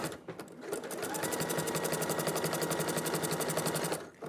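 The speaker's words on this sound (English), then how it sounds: "You're letting the sewing machine pull it together" A domestic sewing machine runs steadily for several seconds, joining fabric pieces edge to edge with no overlap, in a rapid even needle rhythm that stops and starts cleanly, close and fairly loud with no voices.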